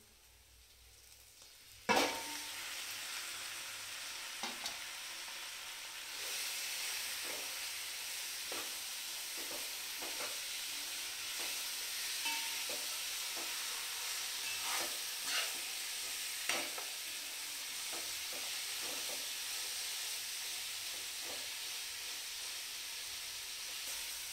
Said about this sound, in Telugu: ఇలా ముక్కలకి బాగా నూనె పట్టేంత వరకు కలుపుకోవాలి.